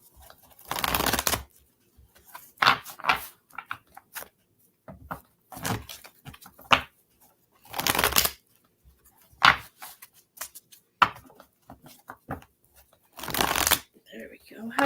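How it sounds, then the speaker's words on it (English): A deck of cards is picked up and shuffled by hand: repeated loud, close riffling bursts lasting about a second, separated by softer handling rustles and taps, with no talk over them. "Pick up these cards."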